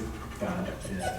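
Reactive, overstimulated dog gives short whimpering yips and a bark in a brief burst, close by, mixed under people talking.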